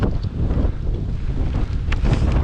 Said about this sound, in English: it's beautiful Yorkshire weather. Windy, cold and wet.